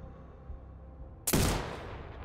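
A single sharp, loud rifle shot in the game Sniper Ghost Warrior Contracts 2 cracks out of near silence and is followed by a long, rolling echo that slowly fades.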